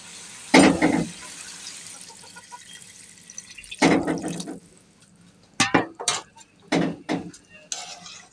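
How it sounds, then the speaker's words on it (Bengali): Water being poured into a pan of hilsa fish curry to make gravy, heard as several separate splashing bursts close by, with quiet gaps between them. "এখন ঝোলের জন্য পানি দিয়ে দেবো"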